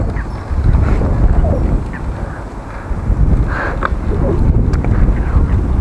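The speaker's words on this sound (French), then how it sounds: "Le vent s'est levé." Wind blowing across a lake at Louvain-la-Neuve, buffeting the microphone in a continuous low, rumbling roar with gusty swells, with faint bird or distant outdoor sounds mixed in.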